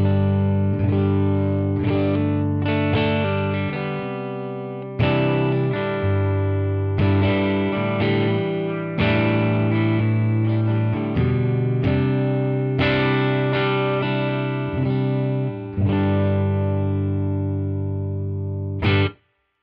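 Clean electric guitar on the neck pickup of a Frank Brothers Arcade into a Benson Monarch amp, with a warm, round tone, playing sustained chords and melodic phrases at a steady moderate volume, with no talking.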